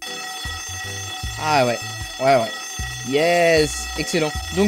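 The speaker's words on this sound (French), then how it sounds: "du coup, effectivement, c'est une alarme." A game alarm rings in GMod DarkRP, a steady repeating electronic tone running through the clip beneath excited voices talking over it.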